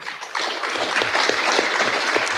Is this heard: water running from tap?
no